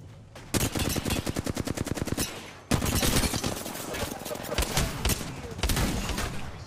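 Rapid gunfire bursts from an Apex Legends match, loud and close, with a brief pause midway before another dense volley of shots continues.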